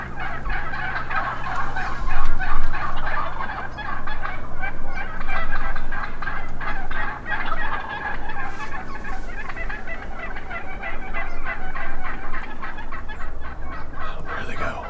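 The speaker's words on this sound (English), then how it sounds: "it sounds like there's some gobblers on the ground right now" Several wild turkeys gobbling from roost and ground at dawn, repeated rattling calls at moderate distance, overlapping one another through a quiet morning woodland.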